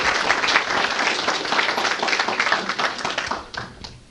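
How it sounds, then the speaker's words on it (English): An audience applauds a speaker as he comes up to talk, steady close clapping from a room full of people that holds for about three seconds, then starts to fade. "let's give him a little round of applause as he comes up"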